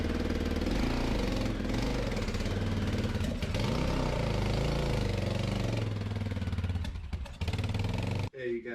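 A cheap used dirt bike engine runs nearby, a rough, throbbing mid-pitched idle with uneven knocking pulses that fades and sputters near the end, with a voice talking over it.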